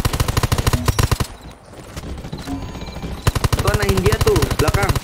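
Gunfire rings out in the online shooter Undawn during a PVP blockade match. Loud, rapid automatic bursts rattle off, pause for about two seconds, then resume in a dense, sustained stream of shots.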